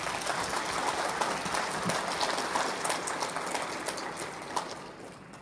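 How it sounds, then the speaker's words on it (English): A crowd at a winter solstice fashion show claps after a song, with dense, even applause that holds steady for several seconds and then thins slightly toward the end, with no talk over it. "Let's give her one more round of applause."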